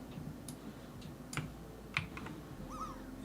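Keys clack on a compact 65% computer keyboard, a handful of sparse, separate taps spread over a few seconds, close and fairly quiet, no talk.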